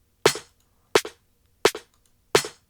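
Four sharp, punchy snare hits, evenly spaced with short decays and silence between them, crisp and loud with a bright crack.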